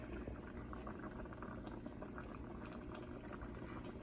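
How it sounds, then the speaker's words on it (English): Liquid coming to a boil in a pot on the stove, a steady dense bubbling and roiling that carries evenly through the whole stretch at moderate volume with no talk. "See how it's now coming up to a nice boil?"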